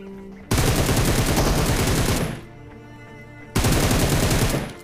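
Gunfire in PUBG Mobile, including an M762 rifle: two long, loud bursts of rapid automatic fire, separated by a brief quieter gap.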